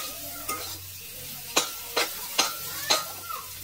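Fried mussels being stirred in a pan for curry: a soft sizzle runs underneath while a utensil scrapes and clinks against the pan in about five sharp, close strokes spaced irregularly.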